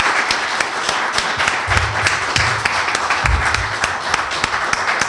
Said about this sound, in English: please join me in extending a round of applause to our candidates for County Board District 16 Supervisors